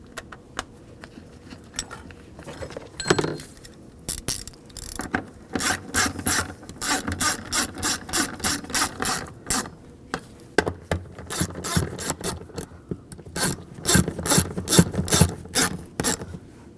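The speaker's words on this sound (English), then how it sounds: "I'll put the nuts back on." A ratchet wrench clicks in rapid bursts while nuts are tightened on the left fuel pump module of a 2007-2013 BMW 328i 3.0L inline-six, with quieter handling and rubbing sounds between the runs of close, crisp ratcheting.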